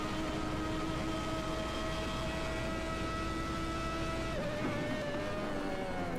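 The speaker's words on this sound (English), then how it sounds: "He's just hitting the rev limiter just at the end, where he hits the red light warning." A 1991 Formula 1 car with a Ferrari V12 engine screams at high revs in a race at the Spanish Grand Prix, holding a sustained, buzzing engine note against the rev limiter before the pitch dips and steps near the end.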